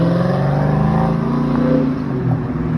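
New South Wales Highway Patrol police car engine, a loud, deep continuous engine note with a slight rise and fall in pitch, close and steady throughout without any talk.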